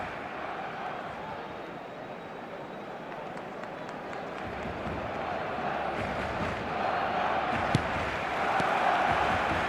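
Steady stadium crowd roar in the eFootball video game, a dense, continuous wash of massed voices that swells slightly toward the end, with a brief sharp peak near the close.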